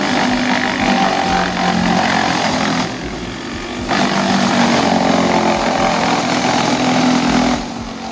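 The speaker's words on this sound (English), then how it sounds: "This wood chipper uses rotating blades to shred branches into uniform chips." A wood chipper with rotating blades shreds branches in a loud, continuous mechanical roar that surges and dips in two or three waves, close and unbroken.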